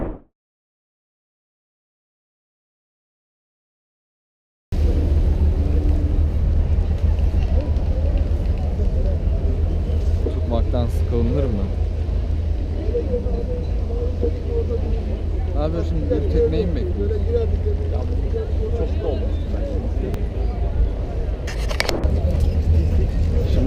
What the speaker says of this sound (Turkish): vapurumuz geldi